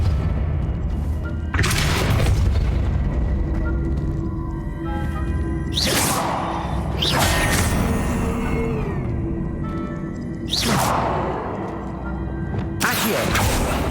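A Depulso spell is cast in Hogwarts Legacy on PC, heard as several loud, sharp whooshing bursts about every two to four seconds over a continuous low game rumble.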